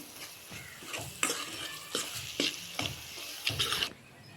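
Ginger paste and spices frying in oil for a dried prawn curry, a steady sizzle with repeated stirring scrapes in a pan, close and moderately loud, with no talking.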